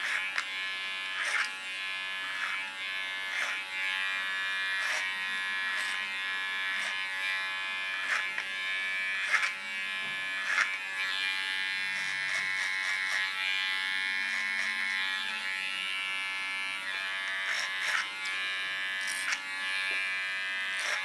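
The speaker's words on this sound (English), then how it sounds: "After I made my first baseline, I go in with my clipper again." Electric hair clipper cutting short pixie-style hair, a steady close buzz that keeps running throughout with small shifts as the blade presses into the hair, and no talk over it.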